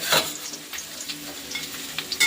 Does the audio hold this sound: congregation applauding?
no